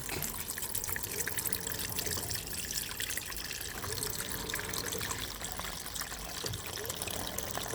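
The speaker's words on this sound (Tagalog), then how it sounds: "Lagyan po natin siya ng katamtaman lang na tubig." Water pours steadily into a pot for making sambong tea, a continuous splashing trickle that stays close and even throughout.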